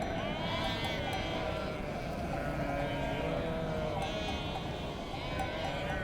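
Sheep bleating in the wild Turkish countryside, several overlapping wavering cries from a flock running continuously over six seconds, with a narrator's voice heard over them.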